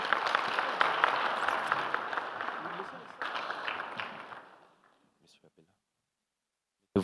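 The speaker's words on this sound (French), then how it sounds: "Sous vos applaudissements, s'il vous plaît." A seated audience at a forestry economics forum panel applauds steadily for several seconds, the clapping fading out into near silence with a few scattered last claps.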